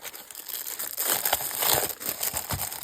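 Sheets of graph and dot grid paper are handled for a planning notebook, giving close, continuous crinkling and rustling with soft papery scrapes throughout.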